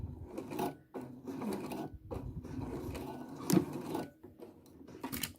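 Sewing machine backstitching along the edge of suit fabric near a pocket placement, a close, continuous mechanical whirr broken into short bursts with brief pauses between runs.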